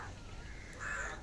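A crow caws briefly at a distance over a steady outdoor background hiss, at a crocodile park near Chennai.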